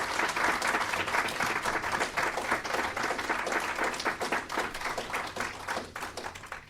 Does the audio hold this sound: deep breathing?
no